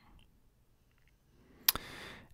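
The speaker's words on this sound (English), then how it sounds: "I can click on that." A computer mouse button clicks once, a sharp close tap in a quiet room, followed by a faint trailing rustle.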